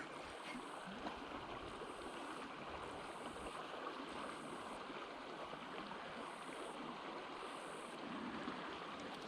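Swift river water rushes past an old deep pool with calm eddies, a steady broadband wash of fairly faint flowing noise lasting throughout and untouched by voices.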